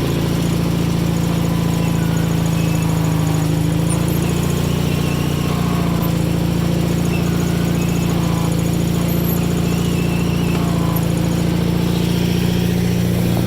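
Cub Cadet 782 garden tractor engine running steadily at a constant loud drone with a low hum, close by, while the hydraulic lift is operated, no talk.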